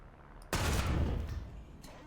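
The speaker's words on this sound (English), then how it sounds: "It's a 75mm gun firing armor piercing." A 75mm Mk.5 cannon firing armor-piercing rounds in War Thunder, one sharp, heavy report that bursts in loud and decays over about a second, with faint quieter clicks around it.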